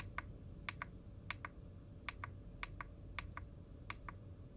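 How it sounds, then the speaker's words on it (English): Volume buttons on a Klipsch ProMedia Lumina 2.1 speaker tapped repeatedly, sharp close-up clicks in quick pairs at a steady rhythm over a faint low background hum. "You have volume up and down, and they're kind of clicky when you tap them."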